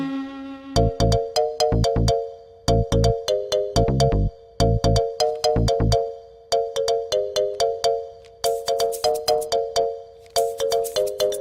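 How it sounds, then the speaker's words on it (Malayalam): A mobile phone ringtone rings loudly and alone, a bright repeating melodic chime in quick bursts with short pauses between phrases. "നിന്റെ ഫോൺ ബെല്ലടിച്ചു"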